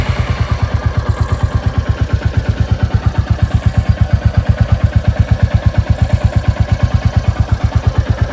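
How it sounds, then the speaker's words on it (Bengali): A Royal Enfield Battalion Black 350 motorcycle engine idles with a deep, rapid, steady thumping pulse, loud and close, running continuously without revving. "এই বাইকটার যে আওয়াজটা, সেই গর্জনটা কিন্তু একদম সিংহের গর্জনের মতো"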